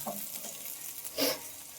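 Boiled vegetables go into a frying masala that has released its oil, a soft steady sizzle with a brief louder hiss and scrape midway, faint and close, no voices.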